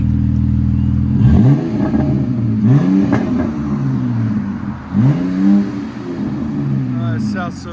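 A 2022 Ram 1500 Tradesman with a 3.6L V6 and Flowmaster Super 44 exhaust, rear and resonator deleted, revs three times close by, each blip rising and falling over a throaty idle, with a voice talking over it.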